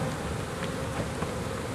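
A swarm of honeybees buzzes continuously and close during a bee removal, a dense, steady drone of many wings with no talk.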